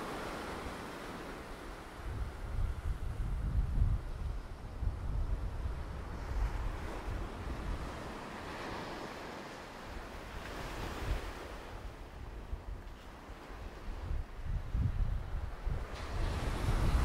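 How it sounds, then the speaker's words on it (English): Waves wash in on Rockley Beach in Barbados, a long narrow beach, as a continuous broad surf roar rising and falling in slow swells, with wind buffeting the microphone and no voices. "It's just a long, narrow beach and nobody's here."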